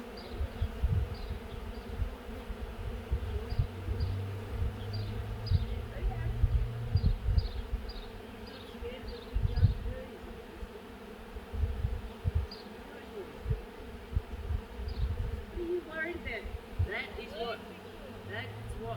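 Bees swarming at a hive that has no brood, a dense, continuous buzzing drone with individual bees zipping past close by, while a person talks quietly over it.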